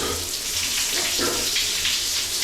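A push-button shower in a French holiday bathroom runs with a steady hissing spray of water, close and constant throughout, with no talking.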